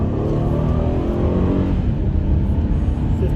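A 2009 Honda Odyssey minivan, recently fixed for a cylinder 3 misfire, accelerates hard on the road, its engine droning loudly and rising in pitch as it revs up, heard from inside the cabin.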